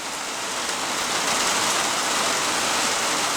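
Rain heard from a car driving on city surface streets, a loud, constant hiss of water and tire spray that builds slightly, with no talking.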